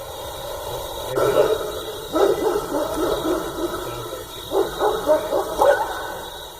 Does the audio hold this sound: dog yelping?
yes